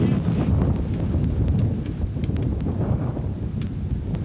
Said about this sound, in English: It's too windy for me.